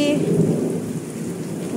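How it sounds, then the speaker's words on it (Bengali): Heavy rain pours steadily with a deep rumble of thunder rolling underneath, loud and close throughout, with no voices. "কি জোর জোর আকাশ ডাকছে গো, অনেক জোরে এসেছে"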